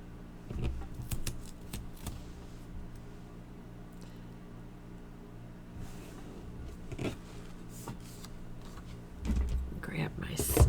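Craft snips cutting off an excess strip of designer series paper, a few short crisp snips and paper rustles scattered at close range, with someone speaking softly over them.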